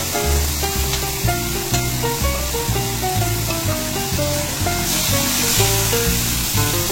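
Soy sauce poured into a pan of pork spareribs cooking with sugar and oyster sauce, producing a loud continuous sizzle and hiss with faint background music and no talking.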